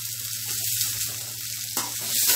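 Cauliflower stir-fry with tomato and curry leaves sautéing in a pan, giving a steady close sizzle and crackle of frying with faint stirring throughout.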